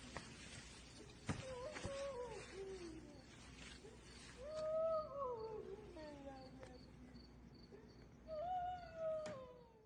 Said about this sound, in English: Could be cats, because they make a lot of funky noises, especially when they fight.